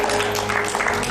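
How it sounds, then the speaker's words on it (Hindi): An audience at an Eid day TV show applauds loudly, a dense and steady clatter of clapping that fills the short moment without a break. "तालियां बनती हैं जी जोरदार"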